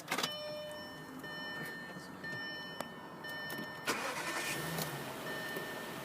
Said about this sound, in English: This is starting the A8